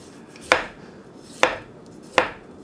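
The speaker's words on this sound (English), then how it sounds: "So I'm just going to slice the ginger up." A knife slices fresh ginger on a cutting board in three crisp, separate chops spaced under a second apart, close and clear against a quiet background.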